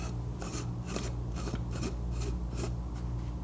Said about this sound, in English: I believe I ordered this grinder off Amazon